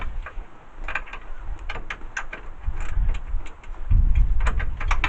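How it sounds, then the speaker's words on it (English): A wrench working a bolt loose on the upper A arm of a 1994 S10, with close, repeated metallic ratcheting clicks and clanks over low rumbling handling noise, no talking. "I can ultimately take it off with a wrench"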